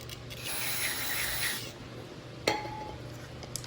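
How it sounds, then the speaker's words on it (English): Steady hiss of carburetor cleaner sprayed into the carburetor throat of a dirty Toro Personal Pace mower engine, a continuous burst lasting over a second, followed by a sharp metallic click and faint ringing. "And let's spray inside the throat"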